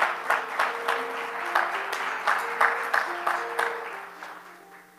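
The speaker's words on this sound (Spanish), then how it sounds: "un aplauso al Señor" A church congregation at a prayer gathering applauds with steady clapping, with rhythmic accents over a sustained musical tone, fading gradually toward the end.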